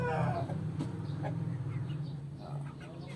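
Chickens cluck and mutter close by against a steady, noisy outdoor background, free-ranging and pecking at the ground.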